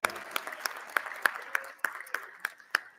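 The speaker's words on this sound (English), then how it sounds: "Let's give them a round of applause." Applause for students of the month at a school board meeting, heard as a thin, fairly quiet patter with a few sharper individual claps standing out at a steady rhythm.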